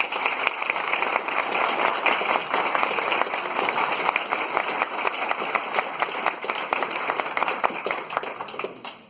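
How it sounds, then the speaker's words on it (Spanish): A lecture-hall audience gives a dense, sustained round of applause to welcome an economist, many hands clapping loudly for about nine seconds before tapering off. "¿Les parece que recibamos a la economista con un fuerte aplauso"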